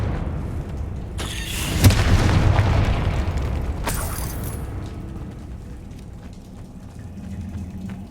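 A Confringo spell explosion in the video game Hogwarts Legacy, a loud deep boom with a crackling burst that rolls into a long rumbling decay, followed by a second bright crackle.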